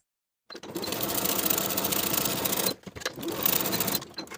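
A sewing machine stitches a curved pocket seam on jeans in two quick close bursts of rapid, even needle clatter with a brief stop between them.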